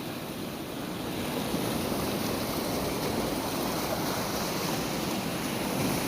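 Heavy floodwater pours over a small dam and down into a canal, a dense, unbroken rushing wash heard alone at a steady level.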